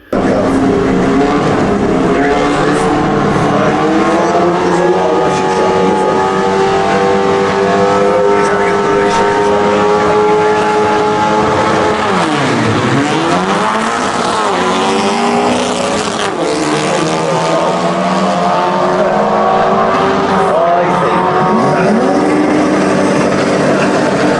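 A loud Subaru STi engine in a VW Beetle with a VW 091 gearbox revs high and roars continuously, pitch rising and dipping as the car launches hard at 2000 RPM and accelerates, with a brief dip midway.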